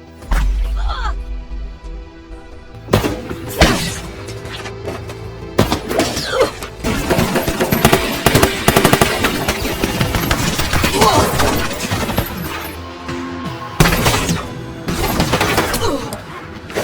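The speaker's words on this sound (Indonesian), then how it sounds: "ia langsung menembaki mereka tanpa ampun" Rapid sniper gunfire and glass shattering in an action film fight scene, loud cracks and crashing debris in bursts across the scene with a voice at moments.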